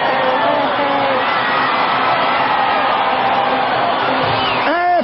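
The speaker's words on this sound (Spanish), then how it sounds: "Este griterío es más evidente que lo que le podamos relatar. La gente eufórica. El grito de triunfo." A wrestling arena crowd roars and shouts euphorically, a loud sustained wall of cheering and whooping that holds steady throughout, with a single voice rising above it just before the end.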